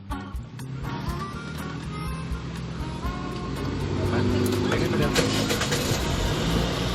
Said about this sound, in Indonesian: Nah pertama gue bakal langsung nyalain aja mesinnya.